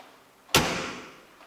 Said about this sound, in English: See, the doors just close really nice as well.